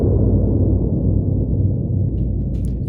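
Acoustic trailer percussion rattles, shaped by a FabFilter Pro-Q EQ toward the low range, make a dense, steady low rumble that is loud and sustained throughout, with only faint high ticks near the end.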